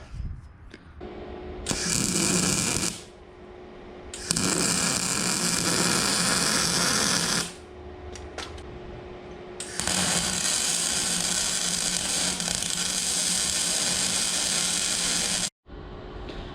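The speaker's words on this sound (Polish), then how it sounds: "Teraz musimy przyspawać drugą część, żeby to jakoś też w miarę pasowało." Electric welding on the second section of a steel mast pipe in a farm workshop, heard as several sustained harsh hissing, crackling bursts separated by short pauses, close and fairly loud.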